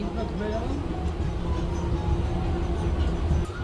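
A local train rumbles along its line, a continuous loud, close rattle and hum filling the whole stretch with a steady drone.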